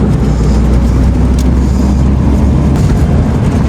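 A steady, close car engine drones and rumbles without letup, a low continuous hum with no voices.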